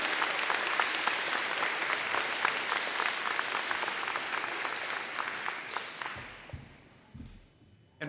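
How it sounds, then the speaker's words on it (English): An audience in a school event setting applauds coaches with sustained dense clapping for about six seconds, then thinning out and fading to a few scattered claps with faint murmurs. "Let's give them a round of applause."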